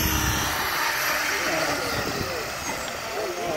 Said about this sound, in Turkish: şu anda bir deneme yapıyorlar maket uçakla